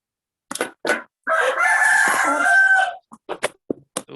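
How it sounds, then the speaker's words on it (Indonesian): Rooster crowing nearby: a few short clucks, then one long, loud cock-a-doodle-doo, followed by scattered clucks and short calls, with no talk. "udah ada suara kokok ayam"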